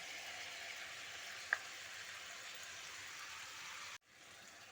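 A ground-spice, ginger, green chili and poppy-seed paste cooks in a frying pan with a faint, even sizzle, a single small clink near the start, and the sound dropping away abruptly near the end.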